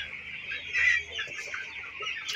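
Broiler chickens on a poultry farm cluck and peep softly in a continuous chatter, with one slightly louder call near the start, no talking.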